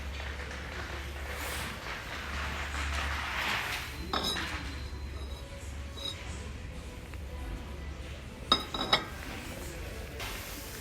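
Ceramic plates and a bowl handled in a shop, a few light clinks scattered under a steady background hum, with a sharper cluster of chinks near the end and a voice speaking briefly.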